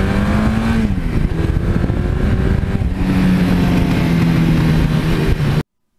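A 1982 Suzuki GS1100E motorcycle is ridden on the road. Its engine hums loud and close, rising steadily and dipping at two gear shifts, before cutting off abruptly near the end.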